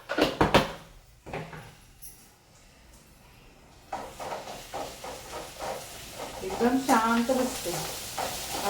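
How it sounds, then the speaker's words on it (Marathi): Ground spice masala with turmeric and asafoetida roasts in a pan for stuffed capsicum: a few sharp utensil clatters, a quiet pause, then a rising sizzle with rhythmic stirring scrapes and a brief voice near the end. "तर सगळा मसाला भाजून घ्यायचा चांगला"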